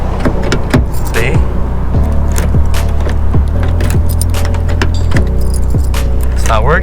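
Car key turning loosely in the lock of a Nissan R32 GTR, giving repeated metallic clicks and jangles over a constant loud rumble of background noise.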